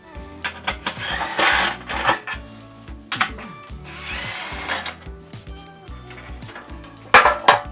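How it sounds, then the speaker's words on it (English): Removing the lint trap chute from a Whirlpool dryer brings a string of mechanical clatters, ratcheting tool bursts and scraping metal and plastic, coming in uneven close bursts with brief pauses between. "So let's go ahead and remove the lint trap chute so we can access that other drum roller bolt"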